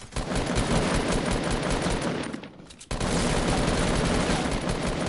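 Rapid automatic gunfire in a building shooter video game, a dense loud continuous burst that dips briefly near the three-second mark and then resumes just as hard until the end.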